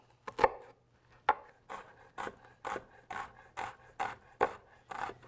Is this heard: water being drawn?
no